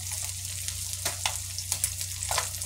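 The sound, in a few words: frying galunggong (round scad) fish in a pan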